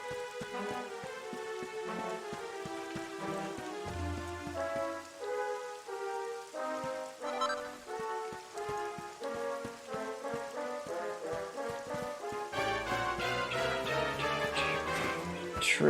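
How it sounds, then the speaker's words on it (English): Rain in the Dragon Quest XI video game, a soft steady patter running beneath melodic game music with sustained tones, fairly quiet and continuous. "Is that why it's raining?"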